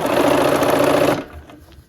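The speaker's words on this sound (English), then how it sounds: "So let's go ahead and sew this strip together." A sewing machine stitches a strip of quilt fabric together for a baby quilt block, running in a loud, close, even whir that stops abruptly partway through and leaves faint room sound.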